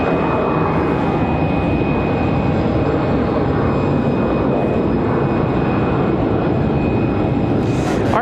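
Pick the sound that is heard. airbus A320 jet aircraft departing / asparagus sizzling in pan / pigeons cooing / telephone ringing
airbus A320 jet aircraft departing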